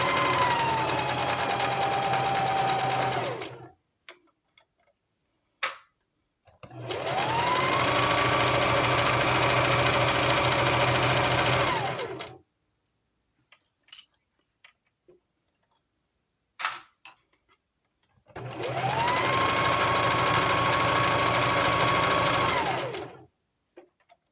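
A sewing machine stitches in three long bursts, a steady close whir that ramps up and winds down each time, with a few clicks and taps in the quiet gaps between runs.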